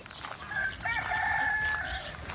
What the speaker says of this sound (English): There were some decidedly exotic birds there.